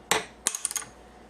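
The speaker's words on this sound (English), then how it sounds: "I've just got a punch chisel, a small hammer," A small hammer strikes a punch chisel to knock the nut off a Les Paul guitar: one sharp tap, a short pause, then a quick run of four or five light metallic taps, close and clear.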